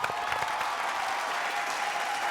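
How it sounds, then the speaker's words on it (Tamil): An audience applauds at a Tamil children's TV reality show, a dense, sustained wash of clapping from many hands, fairly loud and unbroken. "ஒரு பெரிய கைத்தட்டல்கள் ப்ளீஸ்."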